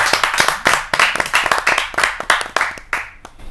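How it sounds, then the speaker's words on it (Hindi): Audience at a Hindi poetry gathering claps vigorously, a dense, loud run of sharp hand claps from a nearby crowd that thins slightly toward the end. "जा जोरदार ताली के साथ।"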